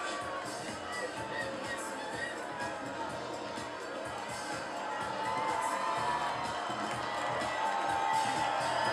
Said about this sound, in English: The crowd seems to be getting into it.